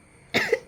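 A person with a cold, who has not managed to sneeze, gives a short burst of coughing from close by after a quiet start, with one more cough beginning at the very end.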